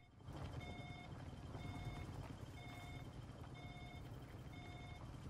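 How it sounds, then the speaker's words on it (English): Dropship recall beacon in the survival game Icarus gives off a repeating electronic beep, five evenly spaced tones about a second apart, over a steady loud background rumble. "You will hear an audible beep."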